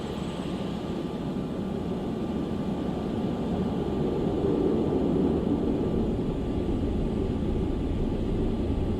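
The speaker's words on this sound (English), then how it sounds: "Concorde 272 is now prepared for takeoff" A Concorde supersonic jet roars steadily on its takeoff run down the runway, a broad, constant engine rumble that swells a little midway.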